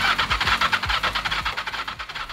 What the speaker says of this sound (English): whoever's replaced this starter motor has obviously bought one that looks the same, but it's off a totally different model because it's running the opposite way